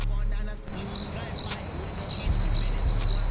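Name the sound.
chirping crickets sound effect signalling an awkward silence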